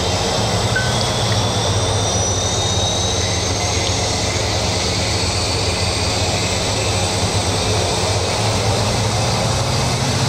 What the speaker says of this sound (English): Start the right engine.